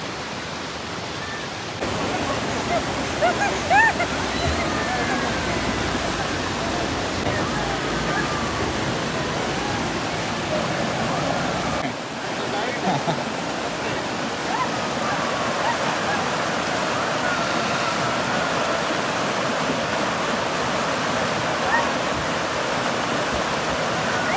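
A river flowing in Himachal Pradesh gives a steady, loud, broadband rush of water that continues with little change, apart from a brief dip midway.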